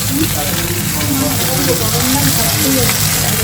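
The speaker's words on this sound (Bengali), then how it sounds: "মাছ ভাজা হচ্ছে" Hilsa fish frying in a pan in a home kitchen during a festive Jamai Sasthi lunch, a steady close sizzle and crackle of hot oil running throughout under voices talking nearby.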